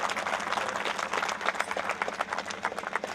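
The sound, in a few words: audience applause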